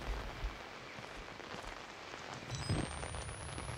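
Rain falls in the Outlast video game as a soft, continuous patter of drops on surfaces, faint and steady with no talking.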